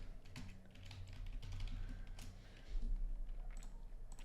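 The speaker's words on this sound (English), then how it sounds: "paste it in, type in video description" Typing on a computer keyboard, a run of quiet, fairly quick key clicks over a low background hum, with no voice.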